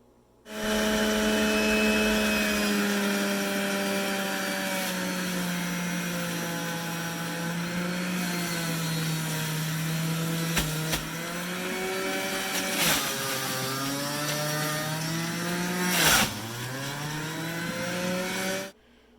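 A fruit juicing machine grinding quartered apples on a farm, a loud continuous motor drone with a falling pitch and several sharp crunching spikes as pieces feed in, no talking.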